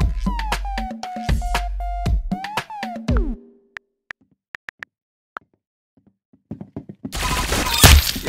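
Gunfire in the Roblox game Arsenal: after tonal game sounds, a few isolated sharp shots crack out, and the clip ends with a loud, dense burst of rapid fire.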